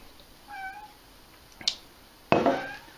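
A cat in a home brewing space gives a short, fairly faint meow, followed by a brief higher squeak and then a louder rustling noise close by.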